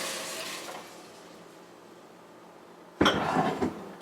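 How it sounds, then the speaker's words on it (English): A pan of cream sauce for tuna noodle casserole is scraped after milk is added, with a soft hiss fading at first, then a sudden louder scraping and clanking of utensil on pan near the end. "Give that a good scrape."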